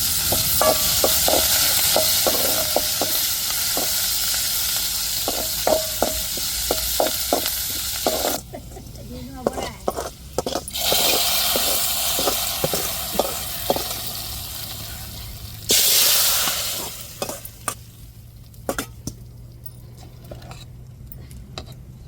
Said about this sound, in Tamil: வெங்காயம் கருவேப்பிலையும் சேர்த்துக்கிடுவோம்.